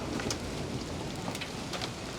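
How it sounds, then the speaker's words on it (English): Hail pelting down during a summer storm in Buenos Aires, a steady dense hiss of impacts with scattered sharper cracks, close and continuous throughout, no voices. "It's a hailstorm in Buenos Aires."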